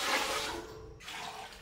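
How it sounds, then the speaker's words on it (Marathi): Soaked chickpeas are rinsed in water, a brief close slosh and swirl of water that pauses and resumes, with no speech. "2-3 पाण्याने स्वच्छ धुवून घेते छोले बी"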